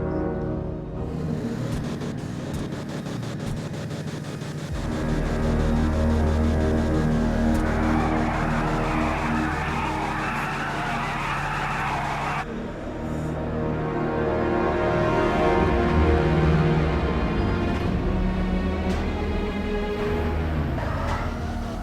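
A modified Impaler dragster, a rear-wheel-drive sedan in the game GTA 5, launches with a loud, throaty engine roar that rises and holds, with tyre noise and a brief lull partway through, no voices.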